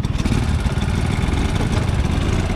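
Vespa scooter and Street Cub motorcycle engines putter loudly and close while riding around a village, a steady throbbing drone with no speech.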